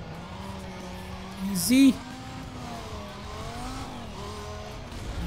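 A race car in Need for Speed Most Wanted taking a sharp turn, its engine a steady drone that swells into a brief squeal near the middle, heard under someone speaking.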